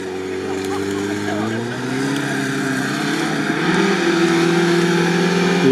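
Engine of a Zhiguli car driving off-road with its throttle stuck open, roaring loudly and steadily with the pitch climbing and shifting as it strains.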